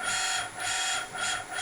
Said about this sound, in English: those direction changes are at rapid speed, and the motor's not jumping around too much